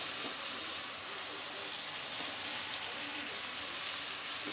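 Fried potatoes and soybeans go into hot spice masala for a vegetarian soybean and potato curry, giving a steady, dense sizzle and hiss that holds loud and even throughout.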